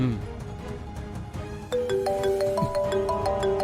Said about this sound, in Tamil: என்ன பெருமாள் கால் பண்றான்?